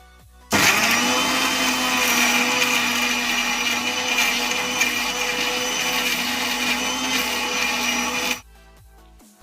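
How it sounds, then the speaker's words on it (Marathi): An electric mixer grinder blends a healthy ABC juice of apple, beetroot and carrot with water. Its loud, steady motor whir starts abruptly, runs alone for about eight seconds, then cuts off. "हे पळया आतां मिक्सराक वांटून येयलें हें आतां."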